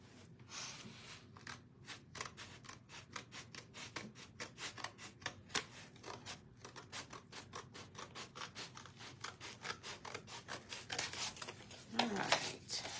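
Material for a homemade Bible stand is trimmed with a rapid series of sharp, rhythmic cutting snips and rasping scrapes, fairly close and steady for several seconds, growing louder near the end.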